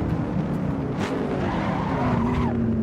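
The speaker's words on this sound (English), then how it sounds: "locking up the brakes." Tires skid and squeal under locked-up brakes on a car in the Assetto Corsa racing game, a loud sustained screech with a steady engine drone running under it for the whole stretch.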